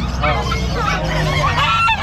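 Geese honk loudly and repeatedly, close up, at a market selling livestock, over a busy background of crowd chatter and people talking.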